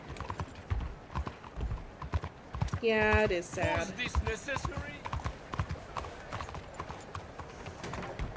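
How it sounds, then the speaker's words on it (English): Horse hooves clip-clop steadily on a street in the Red Dead Redemption 2 video game, a rhythmic close trot running throughout while people talk over it. "Sandony is the worst place to ride a horse, though."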